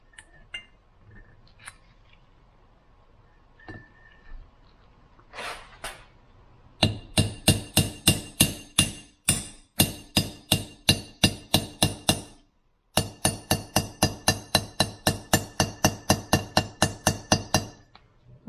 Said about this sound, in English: Once the sound changes, kind of tap around the socket. The sound should be the same all around.